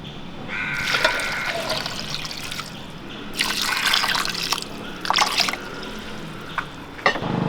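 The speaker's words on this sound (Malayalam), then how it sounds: "ആവശ്യത്തിനുള്ള വെള്ളം ഒഴിച്ചു കൊടുക്കാം" Water is poured into a pot of tapioca in several splashing bursts, separated by quieter gaps and trickles, fairly close and moderately loud.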